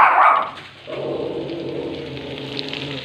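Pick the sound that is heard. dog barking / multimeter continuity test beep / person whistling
dog barking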